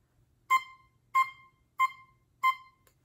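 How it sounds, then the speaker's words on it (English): Four short, detached oboe notes played staccato at an even pace, each clipped off quickly, heard alone and fairly quiet. "It's called staccato, and that sounds like this."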